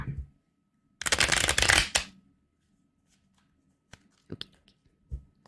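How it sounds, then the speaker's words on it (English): Tarot cards riffle-shuffled in one quick, crisp burst up close, followed by quiet, faint taps and handling of the deck. "I'm going to get a couple more shuffles."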